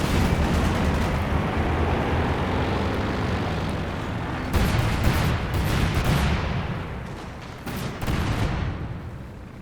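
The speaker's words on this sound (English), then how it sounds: "That artillery has just been constantly bombing the base" Artillery bombardment from Company of Heroes 2 during a battle in a competitive match, a continuous low rumble of distant shelling with a few sharper blasts cracking through it near the end, and no voices.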